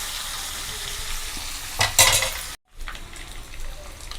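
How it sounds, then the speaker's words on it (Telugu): Ingredients for a Telugu-style tomato curry fry and get stirred in hot oil, a steady close sizzle with a brief louder scrape of spoon on pan midway, then a short drop to silence before the frying resumes. "ఇవి ఇలా వేయించుకోవాలండి"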